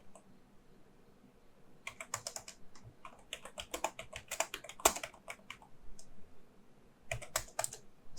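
Someone typing an email on a computer keyboard: quiet, close clusters of rapid key clicks in bursts, with short pauses between runs.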